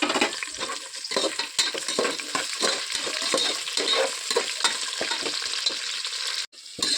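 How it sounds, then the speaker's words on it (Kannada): Chopped onions frying in a little oil in a home kitchen pan, a steady close crackling sizzle punctuated by repeated stirring scrapes, with a brief dip near the end. "ಇವಾಗ ನೀಟಾಗಿ ಸ್ವಲ್ಪ ಎಣ್ಣೆಯಲ್ಲಿ ಈರುಳ್ಳಿ ಎಲ್ಲ ಫ್ರೈ ಆಗಿದೆ"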